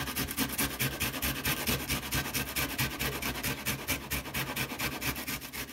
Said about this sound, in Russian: И также на мелкой терке натираю лук.